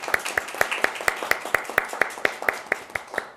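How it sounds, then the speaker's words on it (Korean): A crowd at a policy forum in a conference hall breaks into steady applause. The claps are rapid and sharp, dense, fairly close, and carry on throughout without interruption. "큰 박수로 맞아주시기 바랍니다"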